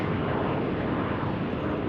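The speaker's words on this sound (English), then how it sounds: "Looks like a 767. Yeah, FedEx on runway 35." A FedEx Boeing 767 on runway 35 at Salt Lake City airport produces a loud, steady jet engine roar that stays constant and close throughout, with no breaks.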